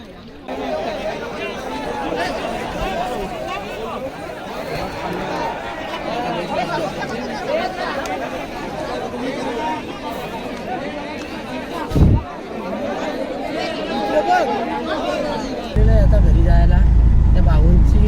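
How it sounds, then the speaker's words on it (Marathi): A crowd gathers at a bullock cart race ground, where people chatter and babble continuously, close by and moderately loud, with a brief thump near the end and a louder rumble in the final seconds. "आता गर्दी बघा किती झाली"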